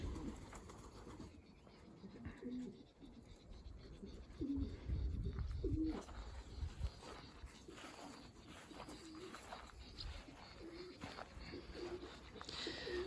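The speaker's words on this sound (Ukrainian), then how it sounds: "Це скоросні голуби, яким треба показати швидкість і прилетіти додому." Racing pigeons at a home loft coo softly during a speed competition, with low, repeated murmuring calls and light rustling in an otherwise quiet setting.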